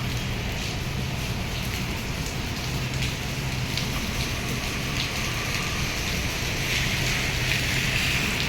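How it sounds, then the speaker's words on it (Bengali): Steady rain falling over a city of tall towers in Doha, Qatar, a continuous even hiss of drops with broadband wash and no distinct events, no voices. "আর আজকে বৃষ্টি হচ্ছে, বৃষ্টির দিন"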